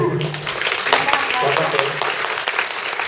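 A keynote audience at a Photoshop presentation in Japan applauds with steady, moderate clapping that continues under a presenter's speech.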